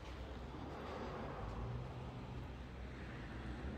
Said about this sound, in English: Isn't that traffic roaring past?